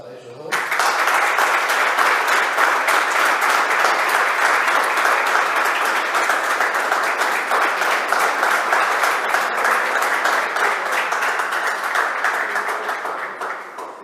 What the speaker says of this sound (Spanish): Primero le voy a pedir un aplauso para ellos dos.